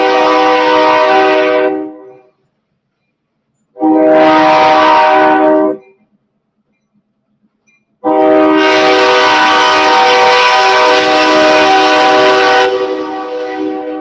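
A passing train sounds its horn in three long, loud blasts, the last one held for several seconds, with short silent gaps between them and no talking.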